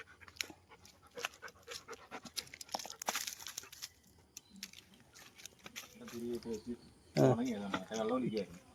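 An injured, neglected Labrador puppy pants in quick, soft rhythmic breaths, with crinkling rustles nearby and a person speaking toward the end.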